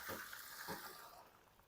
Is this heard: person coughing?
no